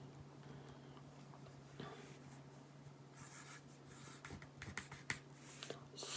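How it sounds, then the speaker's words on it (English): A pen or pencil writes the word saw by hand, making faint scratchy strokes that grow busier and more tapping toward the end, over a steady low hum. The scratching is quiet and no one speaks. "So I want you to write the word saw."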